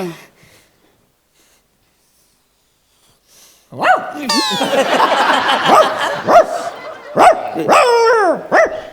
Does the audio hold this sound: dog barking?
yes